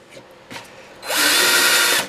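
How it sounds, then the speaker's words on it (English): A power drill bores potentiometer holes into a cigar box for a guitar build. A couple of light knocks come first, then a loud, close drilling whine runs steadily for about a second before cutting off. "Could you see where I was drilling?"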